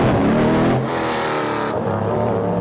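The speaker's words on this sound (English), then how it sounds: "That sounds like a normal car." A sports racing car, one of the GTP or hypercar class, roars past close and loud at a race track, its engine note sweeping by with rising and falling pitch before a steady drone of engines continues.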